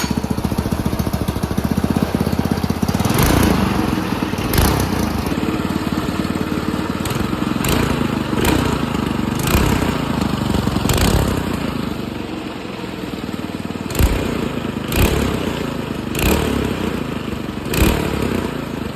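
A Predator 224 engine mounted on a Coleman SK100 minibike runs steadily and loud up close, a continuous rough mechanical roar with periodic clattering bursts and slight revving throughout.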